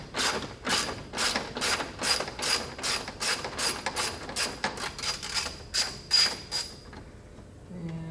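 A socket ratchet works fasteners on the grille of a 2017 F-150 Raptor, a rapid series of sharp close clicking bursts in a regular rhythm for about seven seconds, then quiet.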